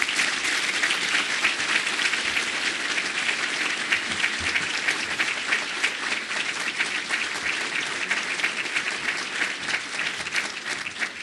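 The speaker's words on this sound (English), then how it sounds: "How about a big round of applause for Louis?" Sustained audience applause after a talk at a City Club luncheon, with dense, steady clapping from a large crowd that stays loud and even throughout.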